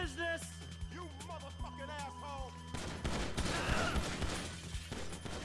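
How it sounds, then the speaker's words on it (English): Rapid gunfire in the video game GTA V, crackling fusillade of shots layered under game sounds and faint voices, growing denser in the second half and fairly quiet overall. "Somebody else shooting me."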